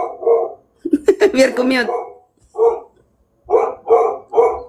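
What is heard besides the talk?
dog barking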